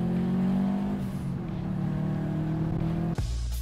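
A 2004 Subaru Impreza WRX engine revs hard under acceleration, its rising drone loud and close from inside the car, ending in an abrupt shift near the end.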